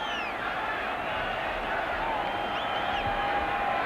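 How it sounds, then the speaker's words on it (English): A packed crowd at a 1990 NFL game between Detroit and Tampa Bay roars in a steady, dense wash of cheering that holds at an even level throughout, distant and continuous, with broadcast voices underneath. "the crowd was in a real frenzy"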